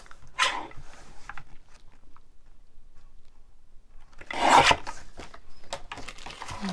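Scissors or a trimmer rasp through a piece of paper ephemera for a junk journal. Two short, close cutting scrapes are separated by near silence.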